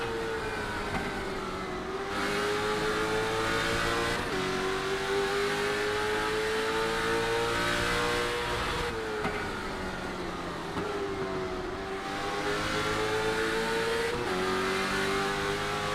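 Onboard a stock car racing at night at Martinsville in the iRacing simulation, the engine roars loud and steady, swelling on each straightaway and dropping off as it lifts for the tight corners, repeating in a regular cycle.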